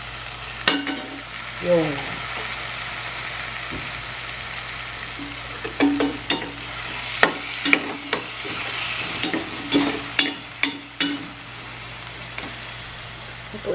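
Chicken seasoned with fish sauce sizzles steadily in a pan, a dense crackling hiss broken by scraping stirs and clinks of a utensil, with a brief spoken word near the end.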